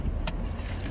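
A 2023 Toyota Crown Platinum with a 340-horsepower turbo powertrain accelerating at full throttle, heard from inside the cabin as a steady low engine and road rumble with a brief whoosh, lasting about a second.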